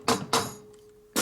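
Sharp, ringing hammer blows on an engine part during the rebuild of a 1992 Harley FXR Evolution 88ci motor, two quick strikes and a third after a pause, each close and bright with a metallic ring.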